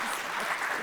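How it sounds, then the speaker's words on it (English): A quick burst of audience applause at a talk for admins, welcoming the host's sister to the stage; dense, steady clapping from a crowd that lasts under a second. "let's give a round of applause for my sister."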